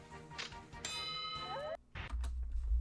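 A Super Sentai gong changer toy, a wrist-worn transformation device built as a bell, rings with a bright metallic ding that sustains and rings out, followed by clattering handling noise and a low rumble.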